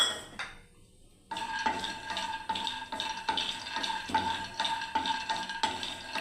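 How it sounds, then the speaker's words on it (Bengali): Peanuts dry-roasting without oil in a kadai, with a spatula scraping and clattering against the metal pan in a steady, rhythmic stirring pattern, fairly close and with no talking. "এবারে প্রথমে আমি তেল ছাড়া বন্ধুরা বাদামটাকে ভেজে নিচ্ছি"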